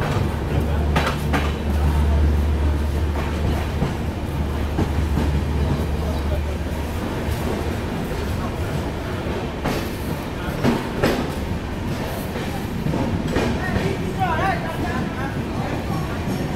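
The Dibrugarh–Howrah Kamrup Express passenger train rolls on the rails, a continuous heavy rumble with clattering wheel clicks from inside the carriage, and a voice talks over it.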